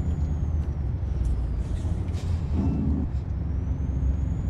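A Freightliner FLB truck in American Truck Simulator rumbles steadily with a deep engine drone while air brakes hiss and whine as it slows into a corner, heard alone.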